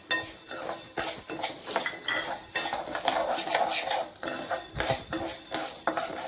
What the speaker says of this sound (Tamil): இதை வறுத்துக்கலாம். துவரம் பருப்பு